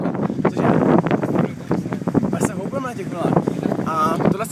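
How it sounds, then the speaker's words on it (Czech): Gusty wind buffets the microphone outdoors in a steady low roar while someone talks over it throughout. "že fouká vítr, potřebuji, aby přestal foukat."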